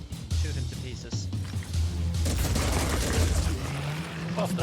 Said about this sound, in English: Alright, shoot him to pieces.